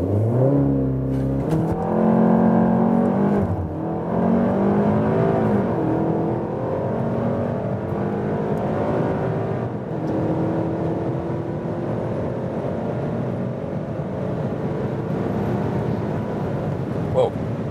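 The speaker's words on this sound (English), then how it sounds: "Let's go with the launch control, ESC Sport, and also Sport gauges in the middle part." A 300 hp Cupra Ateca SUV launches under launch control on a closed circuit, its engine roaring as it climbs through the gears with rising and falling pitch sweeps, loud and close from inside the cabin.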